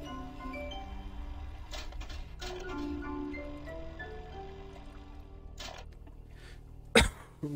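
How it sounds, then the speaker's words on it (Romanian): A single sharp cough bursts out near the end, brief and close, over quiet background music from the game Bioshock Remastered. "Ce păi mai bine să tușesc fără motiv."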